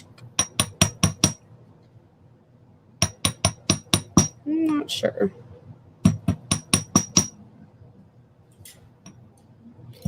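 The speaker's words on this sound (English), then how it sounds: "And you can use whatever hammer you want." A hammer flattens wire for hoop earrings in three quick bursts of five to six sharp, close metallic strikes, with a short spoken remark between the second and third bursts.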